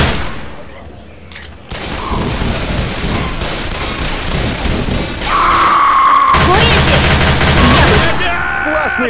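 Bursts of rapid gunfire and booming shots in the video game Left 4 Dead, loud and continuous, with voices talking underneath the shooting.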